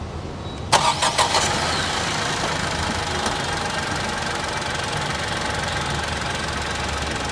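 A Tata Nexon petrol car with the new engine cranks and fires up close by with a short burst of starter chatter, then settles into a steady, even idle hum that carries on alone.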